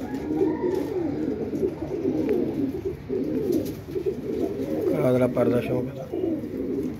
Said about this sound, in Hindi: टैडी कबूतर ही है, चेक कर लें।